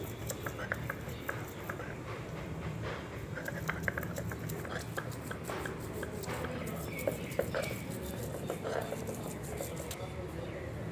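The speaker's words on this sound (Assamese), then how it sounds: "এতিয়া মই গোটেইখিনি কলডিল পাতাখনত ধুনীয়াকৈ বটি ল'ম মিহি মিহিকৈ" Banana flower ground finely on a grinding stone, giving a steady dense scraping and crushing texture with scattered small clicks, close and continuous.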